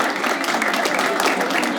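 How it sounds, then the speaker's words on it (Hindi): A game show studio audience applauds a winner with a dense, continuous burst of clapping that stays even and fairly loud for its short length. "तालियां दोस्तों।"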